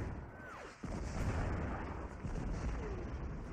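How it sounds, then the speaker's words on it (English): Video game artillery fire set on Iwo Jima, heard as a dense, rumbling wash of distant booms with a whistling projectile sweep and a short dip before the barrage resumes. "Hit this guy with some artillery."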